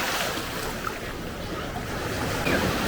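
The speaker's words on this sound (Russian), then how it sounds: "Ой, волна." An ocean wave surges and washes onto the shore at Bukit, Bali. The rush of surf is loud, broad and continuous, with wind buffeting the microphone.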